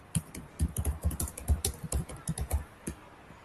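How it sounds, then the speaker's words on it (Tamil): Fingers type on a computer keyboard in an irregular run of crisp, close key clicks, some quicker clusters and brief pauses, with no talk. "h1 டாக்ல வெல்கம் டு ரியாக்ட் அப்படினா டைப் பண்ணுங்க"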